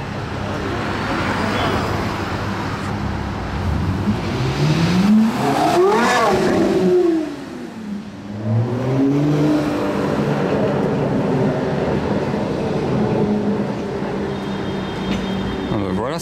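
Busy Paris street traffic rolls past with cars accelerating and engines rising and falling in pitch, a loud pass-by sweeping through mid-clip, steady road rumble throughout and voices talking faintly beneath.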